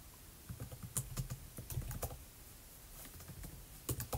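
Keystrokes on a computer keyboard while writing a beginner's Python rock-paper-scissors program, with quick uneven bursts of close, crisp clicks, short pauses between them, and no talking.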